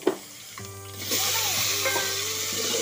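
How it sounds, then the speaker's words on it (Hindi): Tomatoes dropped into a hot pan of fried chili and garlic in a village kitchen: a brief clatter, then loud, steady sizzling and frying close up, with no talk. "ची और लहसुन भून गए हैं और प्याज को हम ज़्यादा तो भूनते ही नहीं, तो अब डाल देंगे हम इसमें टमाटर"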